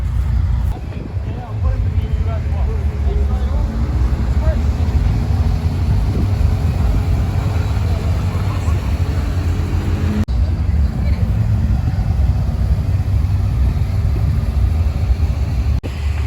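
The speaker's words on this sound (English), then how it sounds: "There's a white Carrera GT coming." A white Porsche Carrera GT rolls into a Toronto car meet, its engine a steady low rumble mixed with crowd and traffic noise, while people talk over it throughout.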